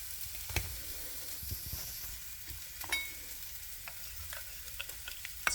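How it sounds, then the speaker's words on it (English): Guacamole and sour cream are stirred together in a bowl: faint, soft scraping and occasional light clicks over a quiet background, with no talk. "we simply stir in the guacamole they send in a bowl and mix that with the sour cream they send"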